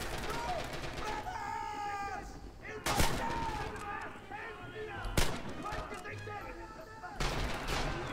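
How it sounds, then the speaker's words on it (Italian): Gunfire in the video game Rising Storm: several sharp, loud shots spaced a couple of seconds apart over a busy battlefield background, with voices talking throughout. "C'è qualcuno che sta sparando qua."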